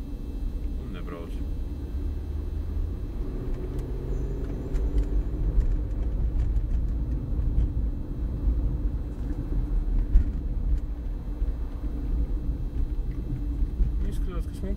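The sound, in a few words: Kamaz truck engine rumbling while driving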